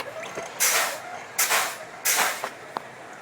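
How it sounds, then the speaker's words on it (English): Repeated short hissing bursts of compressed air as a Class A truck's air brakes are fanned down during an in-cab inspection, three loud blasts spaced about a second apart with a small click after. "So we're going to go ahead and fan the brakes"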